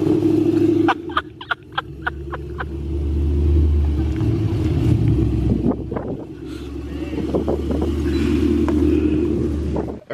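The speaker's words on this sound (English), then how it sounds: "Bro's gonna start his car for Darlene." A car starts on a windy day: a run of sharp cranking clicks, then a deep engine rumble that swells and settles, with wind buffeting the microphone and some talk nearby.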